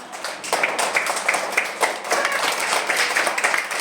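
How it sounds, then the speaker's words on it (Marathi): A group of schoolchildren in a village school classroom clapping together to welcome a classmate, a dense, loud, continuous patter of many hands for several seconds. "विनायकचं एकदा आपण सर्वांनी जोरदार वेलकम करूया टाळ्या जोरात"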